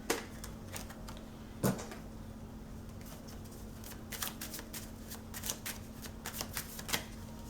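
Tarot cards being shuffled and flicked during a pick-a-card reading, a quiet, close series of papery riffles and sharp snaps coming in clusters.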